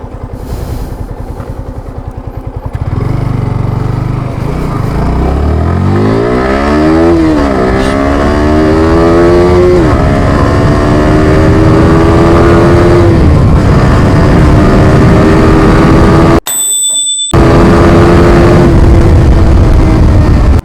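A Yamaha R15M motorcycle revs hard through a 0 to 100 run, loud and close, engine pitch climbing and dropping repeatedly through quick gear changes, with a brief cut in the middle.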